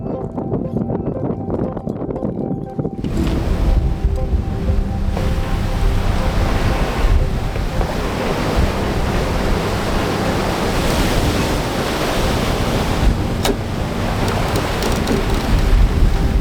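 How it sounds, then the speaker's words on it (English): Gale-force wind and heavy waves batter a yacht at sea during the 2024 Sydney to Hobart race, a loud, continuous roar of wind and surging water that thickens after the first few seconds. "definitely gotten windier now."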